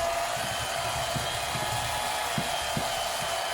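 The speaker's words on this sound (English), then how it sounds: "This is an antique mixer like I am." An antique electric kitchen mixer, owned since 1975, runs steadily with a constant motor whir and some low rattling thumps, close and alone, no voices.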